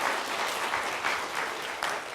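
An audience claps steadily after a lecture, a dense, continuous patter of applause that holds at an even level throughout with no voices over it.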